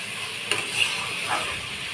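A curry fries in a pan with a steady, close sizzling hiss, broken by a couple of sharper spits and a brief stirring scrape, no voices.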